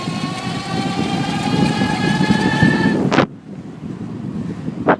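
A Motiv Sleek electric bike accelerates hard on its twist throttle: a rising motor whine over heavy wind rush for about three seconds, then a sharp cut to quieter wind noise.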